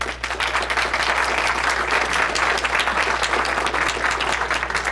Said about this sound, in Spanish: Bienvenido, Damián, y un aplauso,